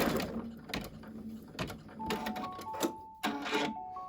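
An embroidery machine stitches down puffy foam on a handmade fabric coaster, giving a busy mechanical whir with repeated needle clatter and short bursts, close and fairly loud, with no talking.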